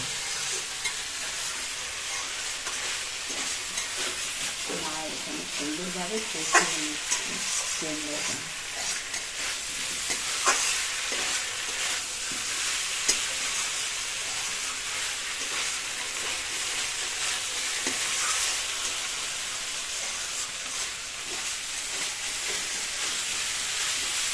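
Prawn and pumpkin curry sautéing in a pan gives a continuous broad sizzle with occasional spatula scrapes and stirring knocks, steady and fairly close throughout.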